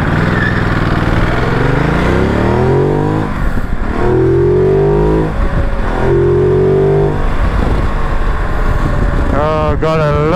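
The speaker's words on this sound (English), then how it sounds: "Oh god, I love the sound of this bike." Ducati Multistrada 950 motorcycle with Desmo service work: a loud, close engine revving up and down in repeated pulls with rising and falling pitch, with a voice audible over part of it.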